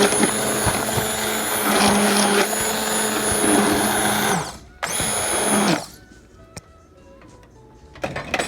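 A loud, steady immersion blender whir runs for several seconds while pulsing tomato sauce in a pot, cuts out briefly, then buzzes again before stopping, leaving quiet clinks and faint handling noises.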